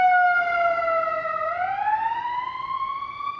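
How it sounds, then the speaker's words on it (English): A wailing emergency siren from a police car or ambulance on a Chicago street, one long continuous tone that sags in pitch and then climbs again, loud and close with no talk over it. "I've seen 2 police cars, 1 ambulance kind of go by."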